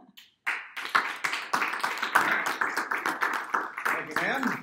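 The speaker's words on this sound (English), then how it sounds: "Another round of applause for her." A small Toastmasters chamber-of-commerce meeting claps for a speaker in a room. The nearby claps come in a quick, uneven patter lasting about four seconds after a brief pause, with a voice starting at the end.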